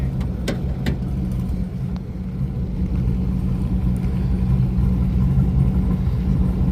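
A street-driven truck idling at an ice drag race, a steady low engine rumble with a few sharp clicks early on, close and continuous.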